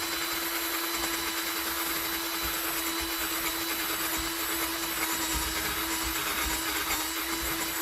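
A steady, loud motorized whine of a power drill spinning a screwdriver bit as a paint mixer, with a constant droning hum and gritty broadband noise throughout.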